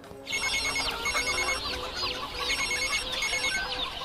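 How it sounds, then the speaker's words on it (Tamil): A telephone ringing for an incoming call indoors, a loud, bright warbling electronic ring that repeats steadily for about four seconds with no talk. "முதல்ல உங்க அப்பாவுக்கு ஒரு ஃபோன் போடு."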